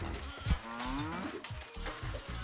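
A cow moos in the video game Moving Out 2, a long, low, gliding call rising and bending near the middle, clear and close over busy game sounds.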